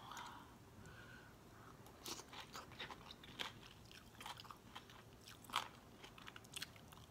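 Crunchy pork rinds are chewed close up in quiet, irregular crisp bites and crunches, faint and with no talking.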